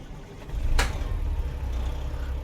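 A Freightliner FLC truck with a 500-horsepower DD60 diesel fires up in American Truck Simulator, a short starter burst giving way to a steady low idle rumble.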